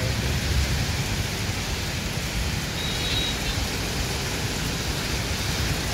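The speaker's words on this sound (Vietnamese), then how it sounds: "Vừa đến chợ Bà Chiểu thì mưa to quá." Heavy rain pours steadily over Ba Chieu market in Saigon, a dense continuous hiss with a low rumble beneath, loud and unbroken throughout.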